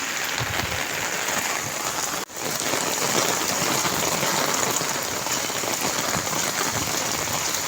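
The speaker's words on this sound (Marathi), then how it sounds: "खूब पाउस है आज बराच पाउस है" Steady, dense monsoon rain pours down continuously in Mankhurd, a loud hiss of drops on surfaces with a brief dip partway through, no voices.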